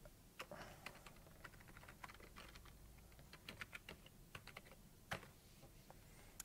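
Someone types on a computer keyboard in irregular bursts of crisp, quiet key taps at close range, with a few louder strokes and no talking.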